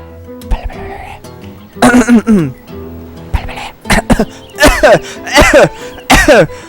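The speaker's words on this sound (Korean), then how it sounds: "기침이 나오네?" A character in the survival video game DayZ coughs repeatedly, a series of loud, harsh coughing bursts close up, separated by short pauses, with some voice and background sound between them.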